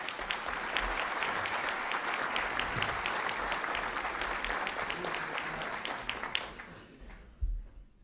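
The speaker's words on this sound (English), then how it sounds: "a round of applause for our head table" Sustained applause fills a press club luncheon room as the crowd claps for the head table, a dense steady patter that holds for several seconds before tapering off into quiet.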